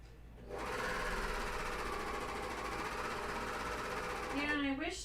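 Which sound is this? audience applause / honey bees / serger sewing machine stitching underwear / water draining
serger sewing machine stitching underwear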